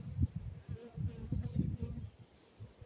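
Honeybees buzzing at an open hive during a brood inspection, a close, low droning hum that swells and fades in pulses, with a voice talking faintly underneath.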